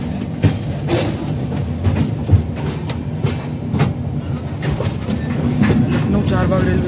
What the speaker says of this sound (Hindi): लखनऊ चारबाग रेलवे स्टेशन पे डिब्रूगढ़ राजधानी का अराइवल हो चुका है।